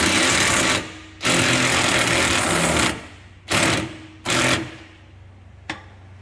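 A power tool works on a rusted 10mm bolt on a 2012 Can-Am Commander 1000XT, a loud, harsh grinding rattle in long bursts, then shorter pulses and one final quick blip, each stopping abruptly.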